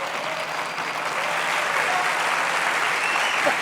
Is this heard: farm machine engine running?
no